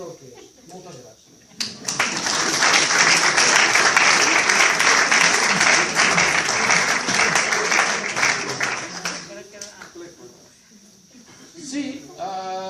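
Audience at a live concert at Ateneu Fort Pienc breaks into loud, dense applause for about seven seconds before it fades, with a voice speaking faintly before and after.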